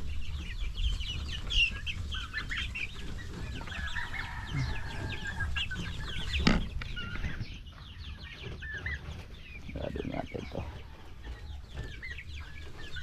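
Chickens clucking and murmuring nearby, scattered soft calls overlapping in a continuous farmyard chatter with occasional sharper squawks.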